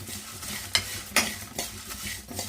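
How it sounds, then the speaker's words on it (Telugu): Spices lightly dry-frying in a pan for a stuffed brinjal masala, with a steady soft sizzle and a couple of sharper stirring scrapes, close and alone with no talk. "లైట్గా మరీ ఎక్కువగా కాకుండా లైట్గా వేయించుకోవాలి"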